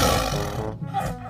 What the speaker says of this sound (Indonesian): ternyata ini hewan harimau